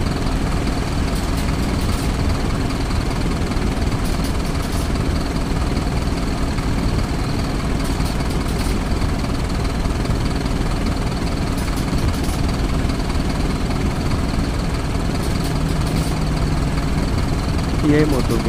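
A 2007 Marcopolo Torino bus on a Mercedes-Benz OF-1721 chassis idles with a loud, steady low diesel rumble and faint high whine, constant throughout and heard close.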